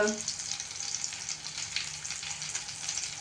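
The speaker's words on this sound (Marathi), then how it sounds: "दुसऱ्या बाजूने पण गोल्डन कलरवर आपल्याला फ्राय करून घ्यायचे आहेत" Oats and vegetable cutlets shallow-frying in a pan, a steady close hiss of bubbling oil with light crackles running evenly throughout.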